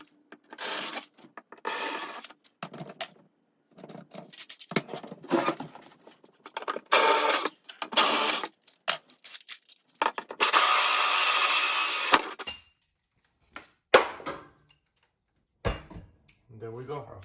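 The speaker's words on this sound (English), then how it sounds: "I'll drill the rest with the bigger drills from the top" A drill bores mounting holes from above for an over-the-range microwave, in short bursts of buzzing grind with pauses between, one longer sustained run near the middle, and speech in between.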